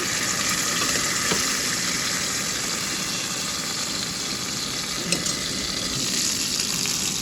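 Liquid curry paste goes into a hot pan and sizzles, a steady loud hiss with bubbling splatter and a few small pops, continuous throughout with no one talking.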